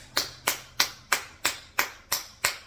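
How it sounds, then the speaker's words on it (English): Eight crisp, evenly spaced hand claps, close and fairly loud, each one sharp with a short decay and a steady rhythm of about three claps a second, no voices. "give yourself a clap"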